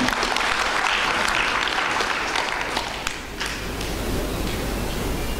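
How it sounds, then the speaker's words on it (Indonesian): Seminar audience applauding steadily for Pak Frans Lamuri, a man honoured for 56 years in insurance; dense, sustained clapping fills the room at a constant loud level for the whole stretch. "Kita tepuk tangan untuk Pak Frans Lamuri"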